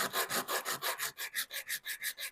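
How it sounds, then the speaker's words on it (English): Rhythmic back-and-forth scraping of sandpaper on the wood of a tortilla press, about a dozen even strokes, close and fairly quiet. "sanding"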